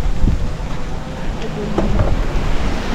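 Gusty wind buffets the microphone in a steady low roar at a Sipocot overlook, with faint splashing and rumbling outdoors and a voice murmuring underneath.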